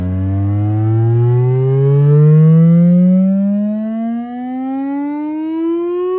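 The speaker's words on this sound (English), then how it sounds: "That's 20 hertz. It's gonna go up." A low-frequency test tone sweeps steadily upward through a pair of Kinyo SW6106 2.1 multimedia speakers, a loud continuous rising hum with buzzy harmonics and no talk.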